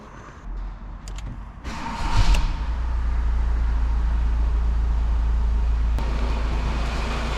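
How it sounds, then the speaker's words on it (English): VW T6 Transporter engine with a noisy dual mass flywheel, a few clicks and a brief surge as it starts, then a steady low rumbling idle heard close up. "the dual mass flywheel is very noisy"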